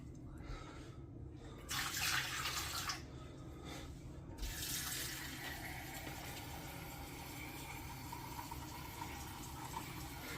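Running tap water pours steadily into a pot, with brief louder bursts of splashing over a constant low hum.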